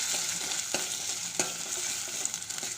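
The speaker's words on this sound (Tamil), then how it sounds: "இஞ்சி போட்டு நல்லா வதக்கி விட்டுடலாம்." Ginger sizzles and fries in a hot pan, with occasional scraping stirs of a spoon cutting through the steady crackle.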